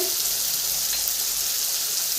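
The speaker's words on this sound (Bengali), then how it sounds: "দিয়ে দেবো টমেটো কুচি পেঁয়াজ বেশি ভাজা দরকার নেই একসাথে টমেটো আর পেঁয়াজ ভাজা হয়ে যাবে" Chopped tomato and onion fry together in a pan over high gas heat, giving a steady, loud, hissing sizzle that runs unbroken with no talk over it.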